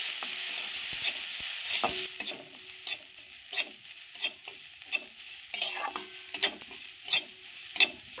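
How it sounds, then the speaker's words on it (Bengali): Gobindobhog rice being stirred and fried in a pan, with repeated scraping strokes of a spatula over a soft sizzle, loud at first and then settling into a rhythmic series of close stirring scrapes. "এই গোবিন্দভোগ চালটা যখন ভাজছি এত সুন্দর গন্ধ বেরিয়েছে"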